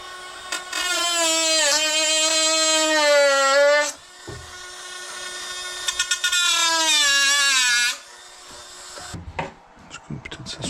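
A power tool cuts a motor support for a Traxxas XRT radio-controlled truck, giving a high, whining buzz in two sustained bursts. Its pitch sags as it bites into the part, followed by brief scraping and clicking.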